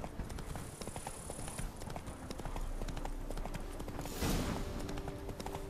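Roach, the horse from The Witcher 3: Blood and Wine, clip-clops along at a brisk, steady rhythm of hoof falls, fairly quiet and close, with no talking over it.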